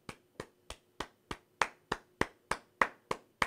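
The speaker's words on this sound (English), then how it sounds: "give that lady a round of applause" A single pair of hands claps slowly and evenly, about a dozen sharp, close claps spaced roughly a third of a second apart with nothing else heard.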